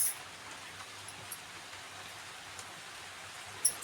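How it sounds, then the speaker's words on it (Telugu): Steady rain falls at a village home in the early morning, a soft continuous hiss with a few louder drops striking nearby, faint and even throughout with no talking. "తెల్లరిగట్ల నుండి బాగా వర్షం వచ్చేస్తుందండి."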